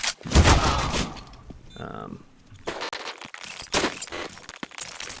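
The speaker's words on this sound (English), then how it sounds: "Deploying flashbang." A flashbang grenade is thrown during a Counter-Strike match on the Inferno map. It gives a few sharp, crackling bursts close by, mixed with gameplay noise and brief voices.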